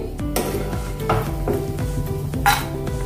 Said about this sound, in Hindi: मिर्ची भी हमने आधा मिनट तल लिए है तेल में।